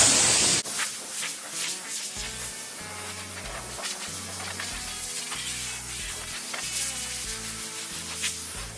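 A sustained hiss of compressed air blowing off a painted car panel in bursts, loud and close, with faint low tones humming underneath.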